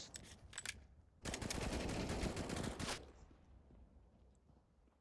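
Gunfire in the shooter game CS:GO: a couple of quick shots, then a sustained burst of rapid automatic fire lasting nearly two seconds, crisp but fairly quiet, fading into soft in-game ambience.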